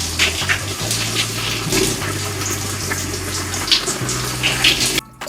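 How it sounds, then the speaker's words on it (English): Running water rinsing pink texturizer lather out of 4C hair, a loud, steady splashing gush with a low hum underneath, continuous throughout and cutting off abruptly near the end. "rinse it off, and then I'll go again"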